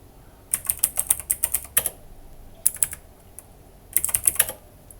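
Rapid clicky keystrokes on a computer keyboard in three short bursts separated by pauses, close and crisp over a quiet background, no talking.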